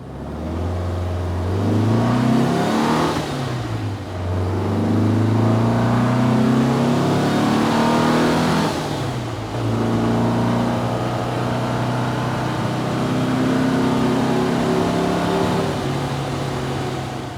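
A car driven hard and accelerating, its engine rising in pitch through the gears with brief dips at the shifts, loud and close with no talking.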